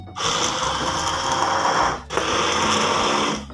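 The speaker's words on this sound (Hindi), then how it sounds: "मैं ब्लेंडर का यूज़ कर रही हूँ।" A blender mixes beef shami kebab mixture: two loud whirring bursts of the motor, close and steady, with a short pause between them and no talk.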